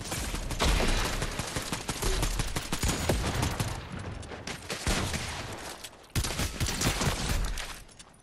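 Rapid, dense gunfire from a weapon in Fortnite, loud and continuous bursts with brief pauses, filling the whole stretch without talk.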